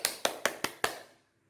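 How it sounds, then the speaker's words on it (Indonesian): Five evenly spaced sharp claps or taps in a classroom, about a fifth of a second apart, crisp and fairly close, with no talking over them, ending in a short fading tail. "Beri tepuk tangan kepada Latifah."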